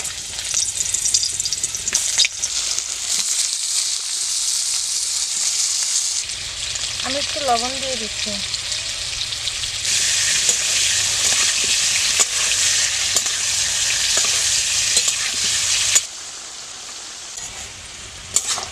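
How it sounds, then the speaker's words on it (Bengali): Continuous sizzling of taro pieces frying in hot oil in a wok, loud and steady throughout, with a short stretch of someone speaking over it midway. "কচুগুলো ভাজার জন্য করেতে তেল দিয়ে দিচ্ছি"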